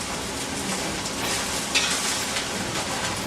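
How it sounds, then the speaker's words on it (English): A beaten egg sizzling as it hits a hot breakfast griddle, steady frying crackle with light stirring scrapes from a whisk guiding it along, continuous and close with no talking. "Pour your egg, use your whisk to guide it along, and take your spatula, reshape this guy"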